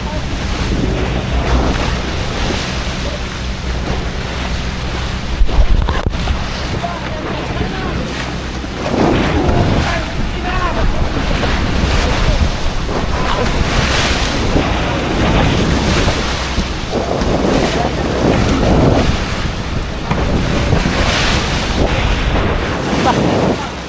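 A fishing boat motors out to sea, with a steady engine drone mixed with rushing water and heavy wind buffeting, loud and continuous.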